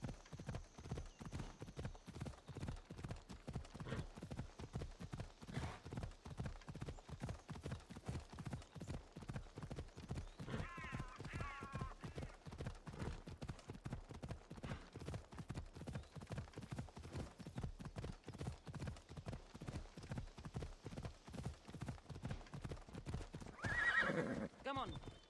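Horse hooves in a Birth by Sleep video game, a steady rapid clip-clop that runs unbroken for about twenty-five seconds, with a brief whinny near the end.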